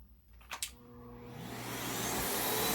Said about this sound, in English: I turn this on the minimum vacuum.